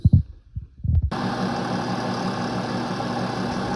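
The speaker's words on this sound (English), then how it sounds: "We're gonna bore it out to fit this shaft." A lathe boring out a part for an auger shaft, starting with a few knocks and clunks, then a steady loud machine hum and whir that runs on without a break.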